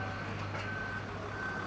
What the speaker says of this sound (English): You can see now that lorry is on its way back.